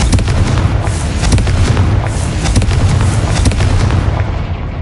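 A Confringo fire spell from the video game Hogwarts Legacy detonates in a loud, sustained blast of booming, rumbling explosion noise that holds steady for several seconds with dense crackling on top.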